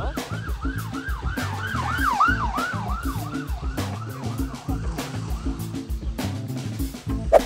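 A police car siren wails on a road, a rapid rising-and-falling yelp repeating steadily and fairly close over traffic rumble, fading toward the end.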